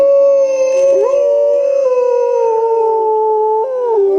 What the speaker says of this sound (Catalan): El llop.